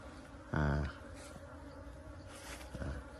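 Bees circle around a hive, and their buzz is faint. One close bee passes with a brief, louder drone.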